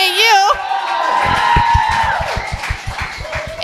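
A live audience at a comedy podcast taping cheers and claps loudly, with a steady roar of voices and rhythmic clapping building after a short stretch of someone speaking at the start.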